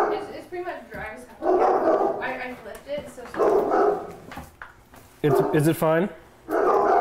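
A dog barks several times in sharp bursts indoors, close and loud, mixed in with people talking over it.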